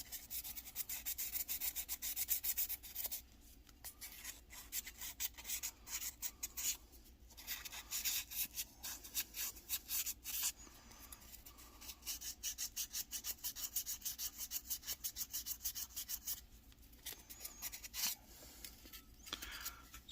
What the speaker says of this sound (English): So you want to make sure that it stays wet. So that's just going to help the sandpaper slide a little better.